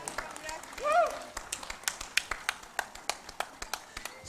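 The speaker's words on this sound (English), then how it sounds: "Please give a big round of applause for Dr." Audience applause at a Lions district conference, with scattered crisp hand claps building into steady clapping, moderately faint, after a brief voice at the start.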